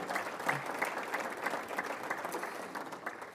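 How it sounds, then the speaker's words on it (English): An audience at a town's state-of-the-town address claps for the sponsors, a soft, fairly distant patter of many hands that holds steady for a few seconds before easing off. "a round of applause for our sponsors as well"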